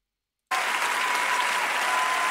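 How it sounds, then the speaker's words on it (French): Sudden applause begins after half a second of silence, a dense, even burst of clapping from a group that holds steady to the end. "J'applaudis."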